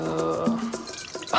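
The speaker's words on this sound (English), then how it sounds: "Okay, so I'm pouring the blood in first." Blood poured into a mixing bowl while preparing meringues, a thin wet trickle with a few drip-like splashes, fairly close and continuous over the short span.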